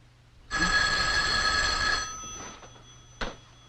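A telephone bell rings in a single close, bright burst of about a second and a half, then fades into near silence with a faint click.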